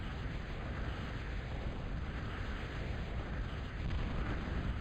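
Invader bombs explode in a real-time strategy battle, a dense, continuous rumble of blasts blending into a steady roaring wash at moderate volume.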